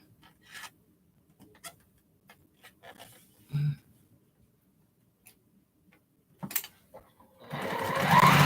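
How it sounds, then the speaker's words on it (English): Scattered clicks and taps sound in a quiet room, then a Juki sewing machine starts up and stitches loudly and rapidly at the end. "I recommend a Juki sewing machine to anybody."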